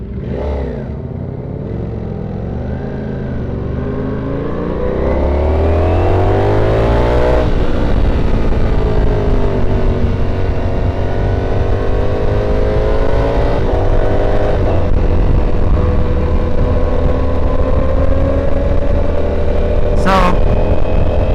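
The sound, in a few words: motorcycles riding, Aprilia RS660 and Kawasaki ZX6R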